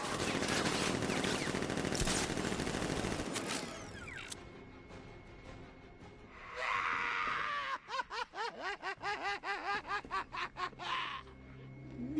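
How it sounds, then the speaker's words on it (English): Guards open fire with guns in a Batman video game: after a stretch of dense noise and a hissing cloud of smoke, a rapid stuttering burst of automatic gunfire rings out loudly, then cuts off. "Guard! Open fire! Shoot everything!"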